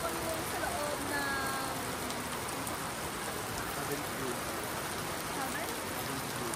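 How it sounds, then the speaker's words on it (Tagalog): Steady rain pours outdoors on an evening outing, a dense, unbroken hiss that stays loud and even from start to finish. "At inabot po kami ng ulan."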